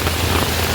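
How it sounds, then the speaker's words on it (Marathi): Heavy monsoon rain pouring down, a dense, loud, unbroken hiss filling the whole short stretch with no voices. "पाऊस बघा किती मरणाचा पाऊस आहे"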